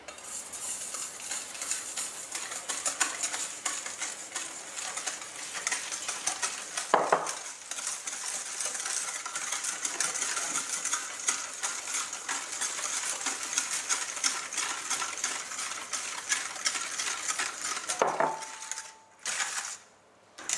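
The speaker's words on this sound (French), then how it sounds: "on va prendre l'huile et on va mélanger le sucre, les œufs et le lait en même temps, tout doucement" A utensil stirs oil, sugar, eggs and milk together into a marbled cake batter in a bowl, producing a continuous scraping swish with occasional clinks of metal against the bowl.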